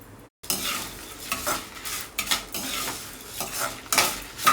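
Red chillies, mustard seeds, urad dal and fenugreek frying in a pan, loud close scrapes and clinks of a metal spoon stirring in uneven bursts over a crackling sizzle.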